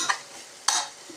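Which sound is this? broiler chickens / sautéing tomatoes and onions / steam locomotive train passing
sautéing tomatoes and onions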